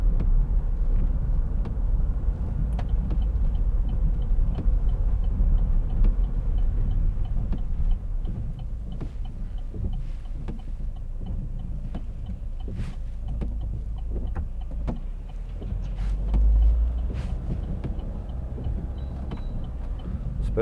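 Steady low road and engine rumble inside a 2011 Vauxhall Meriva 1.7 CDTi diesel on the move, continuous and close for the whole stretch, with faint ticks and small bumps over it and no talking.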